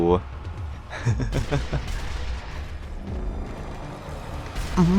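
Several heavy gunshots ring out in the Nazi zombie shooter Sniper Elite Nazi Zombie Army 2, loud booming blasts spread across the clip among game noise, with someone talking between them.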